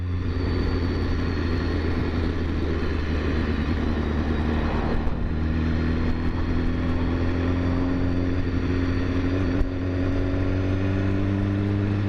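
A 2015 BMW S1000RR motorcycle holding a steady speed on cruise control gives a constant engine drone with a low rumble and rising harmonics. It runs close and unbroken, with no voices.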